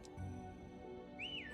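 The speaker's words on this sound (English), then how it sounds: "And that's a whistle." A short rising-then-falling whistle tone from the video game Harvest Moon: Animal Parade, sounding once near the end over a steady game background.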